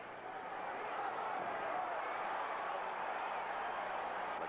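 Partisan crowd at a Larry Holmes versus Tex Cobb boxing match, a steady roar of cheering and murmur filling the arena throughout, rising slightly after the opening moment.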